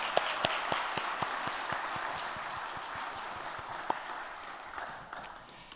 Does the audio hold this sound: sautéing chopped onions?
no